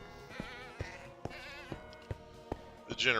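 Goats in the Minecraft video game bleat in a wavering, nasal tone over a regular rhythm of sharp clicks, with a louder bleat closing the sequence, and no one speaking.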